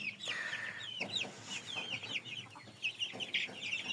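Young chickens hatched from bought eggs cluck and peep continuously in a small brood, fairly quiet and close, with soft overlapping chirps and no talking.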